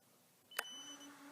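A single short electronic beep from a timer being set to three minutes, close and fairly faint, followed by a thin sustained tone that lingers quietly.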